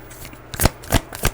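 Tarot cards shuffled in three short riffling bursts, close and crisp, with no voice over them.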